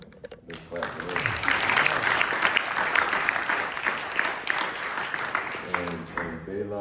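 An audience claps for a vocalist at a summer forum musical performance, the applause swelling after a brief spoken lead-in and tapering as a voice resumes talking at the end.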